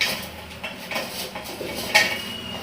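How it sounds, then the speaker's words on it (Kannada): Food is being washed in salted water in a home kitchen, with a few clinks and knocks of a utensil against a vessel. The sounds are close and fairly quiet, and no one speaks. "ಥೋಡೆ ಉಪ್ಪು ಹಾಕಿ ತೊಳಿಬೇಕಂತ ಅದಕ್ಕೆ ಉಪ್ಪು ಹಾಕಿ ತೊಳಿಲತ್ತೀನಿ"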